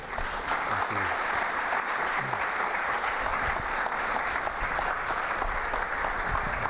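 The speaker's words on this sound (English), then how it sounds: "If you'd like to give them a round of applause" Sustained applause from a conference audience at a shipowners' forum in Japan, steady dense clapping filling the room for several seconds at even loudness, with a brief low voice near the start.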